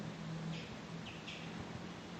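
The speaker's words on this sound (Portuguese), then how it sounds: "Olha os passarinhos." Small birds chirp faintly outdoors in short high calls, a few brief tweets scattered over a steady hum of background noise with no voices.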